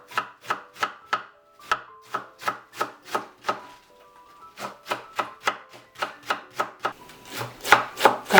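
A knife shreds cabbage into thin strips on a board in quick, evenly spaced chops, close and crisp, with a brief pause midway before the rhythm resumes.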